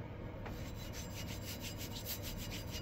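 Steady back-and-forth hand sanding of a Mini steering column metal shaft with higher-grit sandpaper, a continuous rasping scrub with regular strokes, close and fairly loud, no voices.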